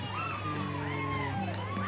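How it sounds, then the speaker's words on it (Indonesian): Children in a crowd at a Scout campsite in Buntu Marampa', Sangalla' Utara, cheering and shouting in a steady, dense roar, with rising and falling voices cutting through the din throughout. "Kita berikan tepuk tangan."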